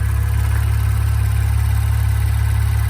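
A 2017 Maserati Ghibli SQ4 twin-turbo V6 with 404 horsepower and dual intake idles in a steady, close, even drone with a strong low rumble, alone with no talking.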